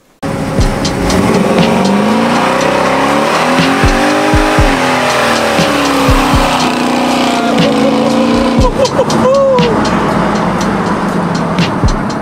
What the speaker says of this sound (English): My dad, KD, is about to drive the C10 today